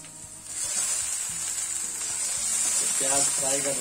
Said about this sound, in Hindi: प्याज फ्राई कर रहे हैं हम